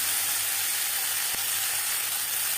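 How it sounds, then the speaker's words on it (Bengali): Potatoes and green banana fry in oil in a pan as they are stirred, giving a steady, loud sizzling hiss throughout with one brief scrape of the spatula. "কাঁচকলার সাথে আলু আরও 2-3 মিনিট নাড়াচাড়া করে নেওয়ার পর"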